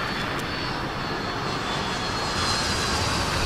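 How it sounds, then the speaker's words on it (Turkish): A crashing airplane in the survival video game The Forest gives a loud, continuous engine roar that swells slightly toward the end, heard without speech. "Uçak düşüyor."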